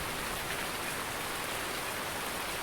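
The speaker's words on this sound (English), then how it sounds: "Such a lovely walk in the rain." Steady rain falling during a walk in a survival game, a constant close hiss of drops on surfaces with no pauses or voices.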